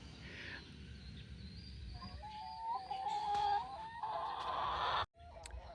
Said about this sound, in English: But the rest of the chickens, as you can see over here,